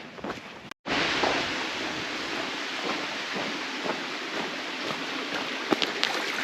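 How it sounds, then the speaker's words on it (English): Steady rain falls outdoors in the Yorkshire Dales, a dense constant hiss that starts abruptly after a brief gap and carries on loud and even with a few scattered patters, no talking. "you might be able to tell, it's raining"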